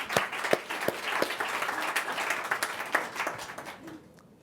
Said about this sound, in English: A round of applause for all the people who are involved in it.